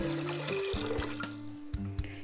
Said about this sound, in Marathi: गॅसवर मी पातेलं ठेवले त्यात पाणी टाकते